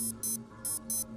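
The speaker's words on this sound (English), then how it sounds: "That alarm goes off and it's time to get home and shut everything down" A wristwatch timer alarm in the film I Am Legend sounds four shrill electronic beeps in two pairs, fairly faint, over a low steady hum of ominous film music.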